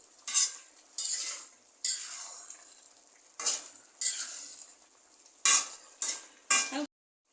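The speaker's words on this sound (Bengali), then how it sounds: "পেঁয়াজের সাথে কাঁচামরিচ দিয়ে দিচ্ছি" Green chillies go into onions frying in a pan, and a spoon scrapes and stirs through the loud sizzle in repeated strokes, each burst of hiss swelling and fading before it stops abruptly.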